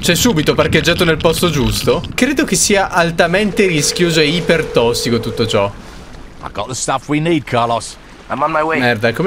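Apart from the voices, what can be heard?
No everyday noise stands out behind the speech.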